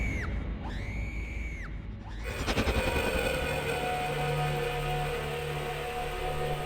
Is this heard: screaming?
yes